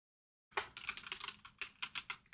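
A computer keyboard is typed on in quick, uneven bursts of clicking keystrokes close to the microphone, beginning after a short silence and carrying on with no talk.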